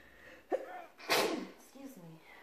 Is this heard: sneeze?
yes